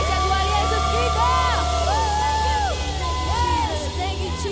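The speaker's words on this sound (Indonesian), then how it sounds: "Tepuk tangan yang paling dahsyat buat Yesus kita." Congregation at an online church service cheering and whooping for Jesus, many voices yelling in rising and falling glides over a steady low hum, loud and continuous throughout.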